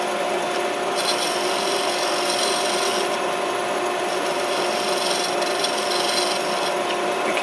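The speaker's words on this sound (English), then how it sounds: "You can use it as a scraper" Brush gouge held flat and scraped across wood, giving a steady, continuous rasping scrape that runs close and fairly loud throughout with no pauses and no talking.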